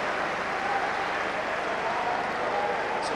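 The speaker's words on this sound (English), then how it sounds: "Sympathetic applause." Steady stadium crowd applause at a 1998 Scottish league football match between Celtic and Dunfermline, sympathetic clapping after an injury, a dense even wash of hands that holds throughout with no talk.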